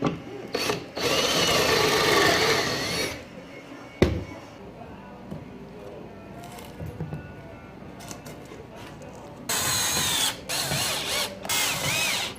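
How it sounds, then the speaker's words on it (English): A power drill runs in short bursts while building a garden storage cupboard, two loud whirring spells separated by quieter clamping clicks and handling noise. "Just clamp, unclamp, drill."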